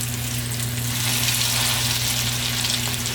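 Porterhouse pork chop fries in browning butter in a cast iron pan: a close, steady, dense sizzle over a low constant hum, with no talking.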